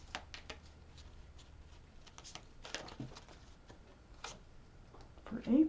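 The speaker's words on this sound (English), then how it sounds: "One more shuffle here." Tarot cards shuffled by hand in a quiet room give soft, irregular papery patters and riffles, faint and close, with a slightly louder rustle at the end.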